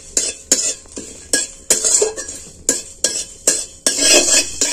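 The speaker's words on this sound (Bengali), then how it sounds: "এগুলো আমি নেড়ে চেড়ে খুব ভালো করে ভেজে নেব" Black pepper and cumin dry-roast in a pan for a ghugni spice mix while a utensil stirs and scrapes them in about a dozen sharp, rhythmic strokes. The scraping is close and clear with a faint rattle of spices, and no speech is heard.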